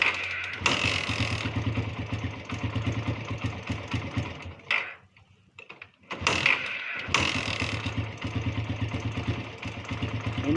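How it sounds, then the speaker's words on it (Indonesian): A Suzuki Satria FU motorcycle engine with a hard-starting fault that dies when first given throttle runs with a steady, close rumble, then drops out for about a second mid-clip before picking up again. "Nah, ini motor hidup kan. Ini motor hidup."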